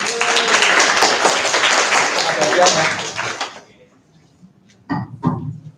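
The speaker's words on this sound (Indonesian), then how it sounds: "Tepuk tangan buat semuanya." Group applause from students at a school legal outreach session, dense clapping from many people that fades out after about three and a half seconds, followed by a few faint knocks and brief talk.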